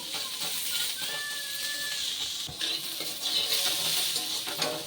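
Potatoes and onions sizzling in hot oil in a pan, with a steady hiss and occasional scrapes and clinks as they are stirred, close and fairly quiet with no talk.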